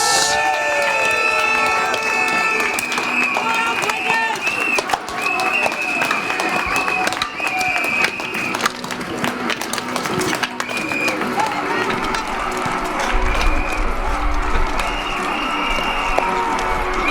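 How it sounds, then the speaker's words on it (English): Arena crowd at an Isle of Wight Wightlink Warriors speedway Knockout Cup meeting against Cradley Heathens, loud sustained cheering, clapping and whistle blasts filling the whole stretch, with a surge of low rumble near the end. "Stamp your feet, clap your hands, blow your whistles."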